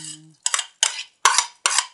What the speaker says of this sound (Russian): Вот у нас такая сковорода, большая сковорода